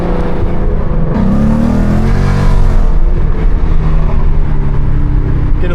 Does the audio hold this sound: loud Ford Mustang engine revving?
yes